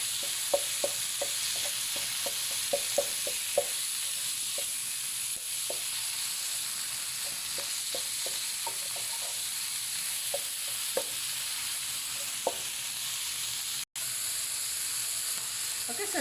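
Mincemeat frying with onions in a pan, a soft steady sizzle under repeated scraping taps of a spoon stirring the mixture at close range.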